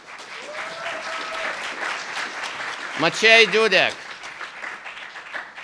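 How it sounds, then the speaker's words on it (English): Audience applause rings out in a hall at a graduate commencement ceremony to honor the instructors, a steady wash of clapping heard under a speaker at the podium reading names. "Let us give a round of applause to your instructors."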